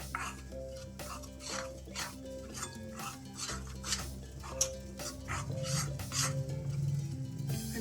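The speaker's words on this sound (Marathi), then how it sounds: "तोपर्यंत आपण पीठ मिक्स करून घेऊया।" Baby corn fritter batter is stirred in a bowl with a spoon, a repeated close scraping and clinking rhythm against the bowl, moderately loud with no talking.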